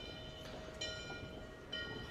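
A train passes beside a wheat field, a steady rumble of rail cars with brief higher tones rising twice, heard fairly faint and without any voices.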